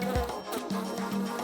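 Close insect buzzing of bees collecting wax from an orchid, a wavering drone that rises and falls as they fly past over a brief moment.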